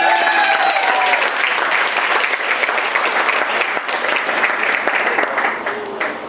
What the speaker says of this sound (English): Let's give applause for how gorgeous the bride looks tonight.